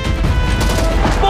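Machine gun fire in a war drama battle scene: a dense, loud burst of rapid gunfire with booming impacts that fills the whole brief moment.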